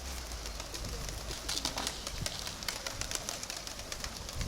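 Pigeons coo repeatedly in the open, soft throaty calls rising and falling over a low background hum, with some birds nearer than others.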